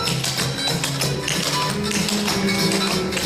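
Clogging dancers' shoe taps clatter in quick, even rhythm through a clog over vine step, loud and close over background music, with no talk.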